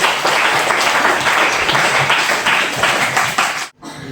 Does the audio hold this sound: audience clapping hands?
yes